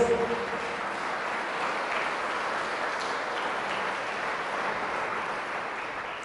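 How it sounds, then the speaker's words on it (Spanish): Steady applause from a church congregation, sustained and even for several seconds, moderately loud with no voices standing out. "Fuertes aplausos, la palabra de Dios."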